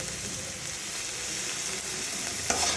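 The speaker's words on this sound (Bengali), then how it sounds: "এবার নাড়াচাড়া করে এর সঙ্গে মিশিয়ে নিচ্ছি" Vegetables frying in a pan with salt and turmeric while being stirred, a continuous close sizzle with a small scraping clink near the end, no voices.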